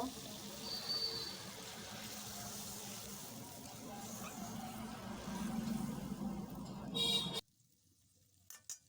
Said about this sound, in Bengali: এবং আরেকটু জল দিয়ে দেব।